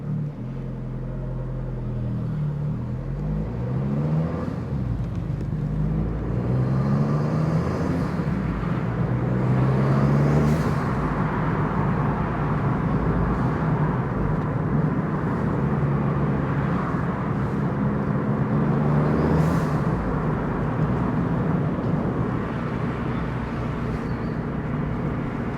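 A manual five-speed car drives along with a steady engine drone and road rumble, its pitch rising and falling through gear changes, including a downshift from third to second.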